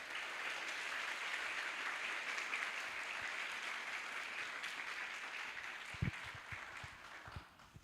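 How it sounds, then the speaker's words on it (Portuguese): An audience at a university inaugural lecture in Cascavel claps in a dense, even wash of applause that slowly thins and fades, with a few louder individual claps near the end. "a professora Regina Dal Castanhe, e uma salva de palmas."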